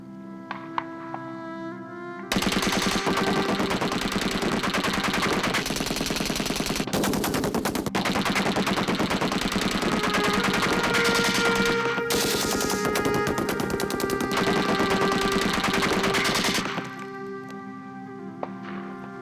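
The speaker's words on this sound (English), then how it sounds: "The machine gun could fire 600 rounds a minute." A machine gun fires long sustained bursts of rapid, dense shots that stay loud and continuous for most of the span and then cut off abruptly.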